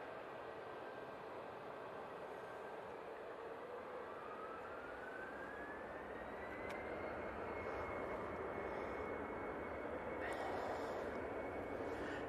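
A TUI Boeing 737 MAX 8 arriving from Mahon produces a faint, steady jet roar with a rising engine whine that climbs then levels off, and it grows slightly louder toward the end.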